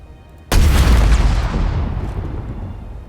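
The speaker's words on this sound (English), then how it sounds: "Let's take a couple more pot shots at it." A single loud boom from weapon fire in Space Engineers, a sudden sharp blast followed by a long rumbling decay that fades slowly over a few seconds, heard alone.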